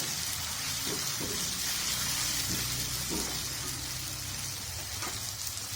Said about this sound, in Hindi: अच्छे से भून लेना है